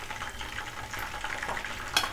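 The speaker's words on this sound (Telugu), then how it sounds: "ఇలా గోల్డెన్ బ్రౌన్ కలర్ వచ్చే వరకు వేయించుకోండి." Meal maker soya chunks fry in hot oil in a kadai until golden brown, giving a steady close sizzle with stirring scrapes and a sharp clink near the end.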